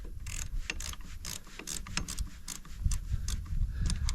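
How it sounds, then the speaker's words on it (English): A 14mm spanner turns a bolt on a generator, making a rapid series of close ratcheting clicks in an uneven rhythm over a low mechanical rumble. "So using a 14mm spanner,"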